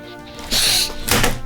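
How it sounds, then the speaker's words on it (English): A game controller is thrown during play, landing with two quick, hollow thunks about half a second apart, close and fairly loud in a quiet room. "That's the sound of me throwing my controller."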